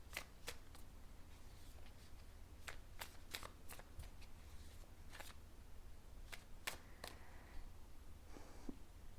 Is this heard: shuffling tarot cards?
yes